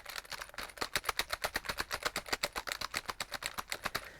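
Rapid keystrokes on a computer keyboard resting on someone's knees, picked up by a HyperX QuadCast S microphone; a steady run of about twenty-five crisp, evenly spaced clicks, close and fairly loud, with no voices.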